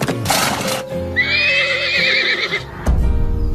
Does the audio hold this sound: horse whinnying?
yes